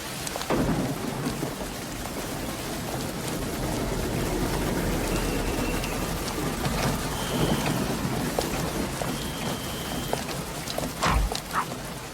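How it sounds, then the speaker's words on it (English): Steady rain falls through a stormy evening as a continuous broadband hiss, with low thunder rumbling underneath and a heavier burst near the end, no voices present. "You know it's raining, don't you?"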